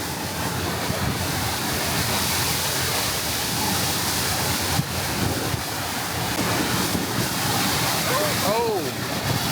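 Steady rushing water from a surf simulator on a cruise ship roars continuously throughout, a broad wash of spray and surf with faint voices mixed in near the end.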